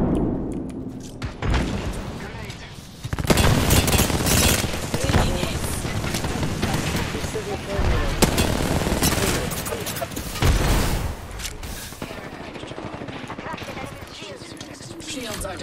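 A frag grenade thrown during a firefight in the video game Apex Legends, with loud bursts of rapid gunfire, booming thuds and an explosion-like blast, as game voices talk over the chaotic shooting.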